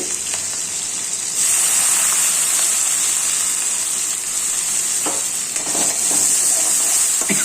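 Green chillies and chopped onions hit hot oil and are stirred, the close, loud sizzle swelling suddenly and then holding as a dense, hissing crackle with occasional spatula scrapes, no voices.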